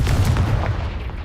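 A Confringo spell blast in Hogwarts Legacy gives a single loud, close explosive boom with a heavy low rumble that fades quickly over about a second, heard alone.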